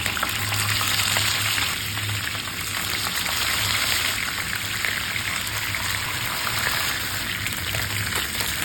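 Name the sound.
frying tulingan fish in used oil in a pan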